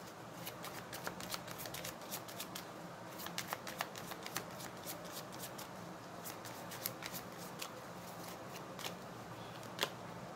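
Tarot cards being shuffled by hand in a repeated run of soft, crisp riffling flicks, close and quiet, with no one talking.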